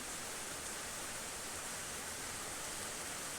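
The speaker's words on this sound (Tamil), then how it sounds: "தண்ணி ஊற்ற போகிறோம் அந்த தீபத்தில்" Water pours into a jala deepam lamp in a steady, even stream with a soft, continuous hiss and no break, close and fairly quiet, with no voices.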